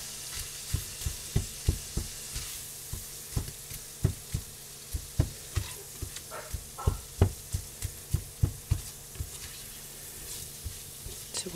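Precooked sausage sizzles in a hot frying pan as it browns, with a steady frying hiss broken by regular clicking pops and stirring sounds, close and fairly quiet.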